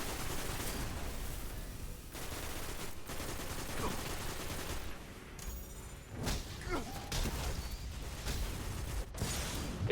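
Gunfire and impacts in a video game raid, with bursts of shots and heavy bass booms layered over continuous game noise while players talk over it throughout.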